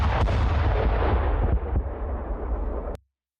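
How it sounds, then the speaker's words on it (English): An artillery barrage of shells fired across a border, heard as a heavy booming blast with rumbling low thunder and a couple of sharp cracks, rolling on for about three seconds before cutting off abruptly. "The south responded with a barrage of 29 artillery shells."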